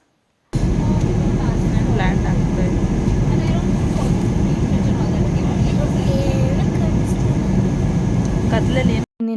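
Steady broadband roar of an airplane cabin in flight from Bangalore to Mumbai, a constant engine and airflow drone filling the whole stretch with faint voices murmuring beneath it, cutting off abruptly near the end.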